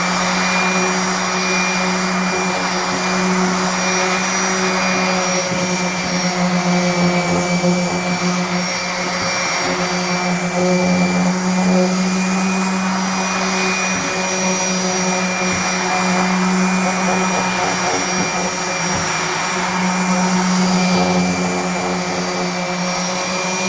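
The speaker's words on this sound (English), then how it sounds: "this epoxy is pretty heavy. So I need to start out with a pretty coarse sandpaper" Steady, continuous whir of a power sander working coarse sandpaper over heavy epoxy on walnut, loud and close, droning without pause the whole time with slight rises and dips in pitch.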